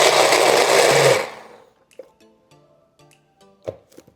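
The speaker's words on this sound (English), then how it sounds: "So let's go ahead and blend." A kitchen blender whirs loudly through a protein pumpkin dessert mixture for about a second, then stops, leaving faint clinks and small handling sounds.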